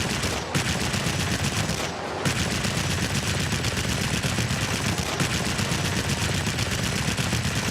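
Continuous aircraft machine-gun fire from the Me 265 Destroyer in World of Warplanes, a dense, loud rattling burst with two brief pauses, engine roar underneath.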